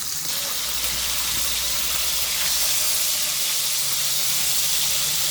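Steak, grain-fed tenderloin or cuberoll, searing in olive oil in a pan, producing a loud, steady, close sizzling hiss that runs unbroken throughout.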